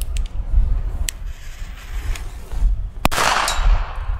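Firecrackers burst outdoors at German New Year's Eve celebrations, sharp cracks at the start and a loud close bang near the end followed by a crackling hiss over wind-blown background noise.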